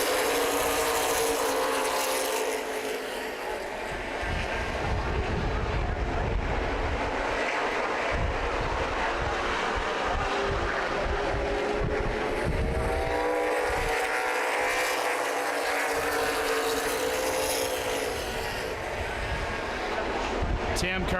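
Race cars at Columbus Motor Speedway's 2011 Memorial Day 250 roar around the track after a restart, a continuous loud engine drone rising and falling as they pass, with a commentator talking over it.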